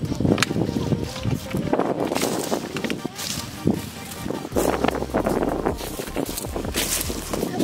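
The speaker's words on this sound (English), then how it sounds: "See, it's windy. Very windy, huh?" Gusty wind at a pumpkin patch buffets the microphone in rough, low rumbles throughout, with a few voices and background sounds mixed in.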